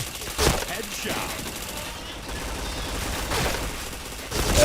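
AK rifle gunfire in a shooting video game, with rapid bursts of shots over a dense, noisy mix of game sound.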